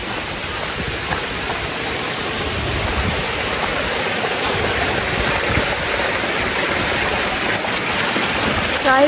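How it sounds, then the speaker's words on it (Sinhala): A small stream runs through the Knuckles forest with a steady splashing rush, its trickling texture continuous throughout and a few sharper drips near the end. "මෙතන පොඩි වතුර පාරක් තියෙන්නේ"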